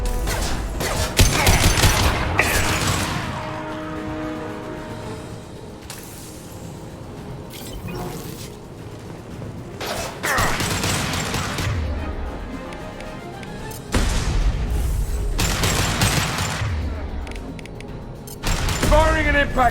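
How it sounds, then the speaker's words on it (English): Gunshots and a heavy impact round in Mass Effect 2 combat, fired in several loud bursts separated by quieter gaps, with a voice speaking over the action. "Firing an impact shot!"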